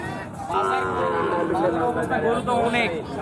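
Cattle at a busy livestock market low and moo in long, loud, drawn-out calls close by, one after another, over a steady crowd murmur of people talking and bargaining in the background.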